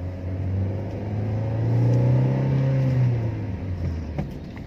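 A car driven during a driving lesson on a narrow road gives a steady engine hum that swells gently and eases off, with no one talking.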